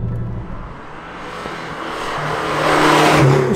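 A Lancia Delta Integrale accelerates, its engine note rising steadily into a loud, rushing roar close by, with a steady low drone underneath and no talking.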